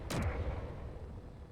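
A single sharp cannon report from Space Engineers artillery and assault cannons, a punchy boom that quickly decays into a low rumbling tail, heard alone.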